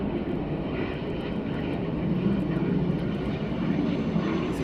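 A Eurofighter Typhoon jet taxies at an RAF airbase, giving a steady, moderately distant engine roar and whine that holds level throughout with no talk.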